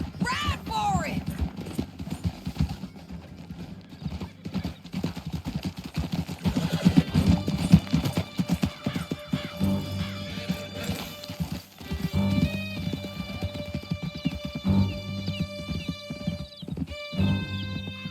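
Horses gallop through a canyon in Red Dead Redemption 2, hooves pounding in a continuous clip-clop rhythm with occasional neighs, while voices shout and talk over a swelling musical score.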